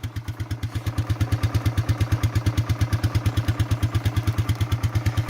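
A 1992 Suzuki Quadrunner 300 ATV engine runs after a cold start, a steady close single-cylinder putter with an even, rapid chugging rhythm, idling without voices over it.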